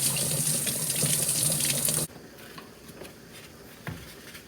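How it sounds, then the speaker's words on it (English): Cold tap water splashes steadily into a sink while rinsing chicken for about two seconds, then cuts off abruptly, leaving quiet room noise with a faint clink. "we'll wash it off in cold water"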